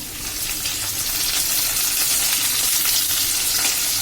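Green beans hit a pan on high flame for Kolkata-style chow mein, a loud, dense, continuous sizzle and crackle that builds slightly and holds, with faint stirring underneath and no talk.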